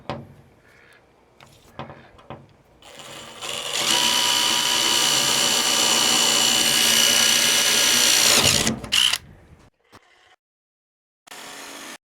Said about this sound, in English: we're going to drill a start hole for that circle